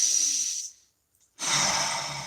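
A single deep breath taken close up: a long, airy inhale, a brief silent hold, then a slow, heavy exhale like a sigh, with no talking.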